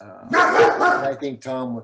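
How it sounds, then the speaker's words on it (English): A dog barks a few times nearby, brief loud bursts overlapping with a man's speech on a podcast recording. "sorry, that was my dog."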